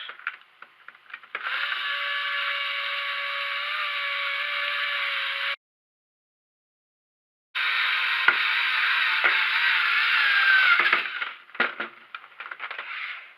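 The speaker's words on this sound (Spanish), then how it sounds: "colocamos los tornillos más largos de color plata y apretamos." Long silver screws being driven into the casing of a PS3 Slim, a steady whirring, ratcheting drone that runs for a few seconds, stops briefly, then resumes with small clicks and taps near the end.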